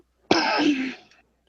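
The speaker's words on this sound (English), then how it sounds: "I got a cough." A single harsh cough or throat-clearing burst, close and fairly loud, lasting under a second and fading out, with no talking.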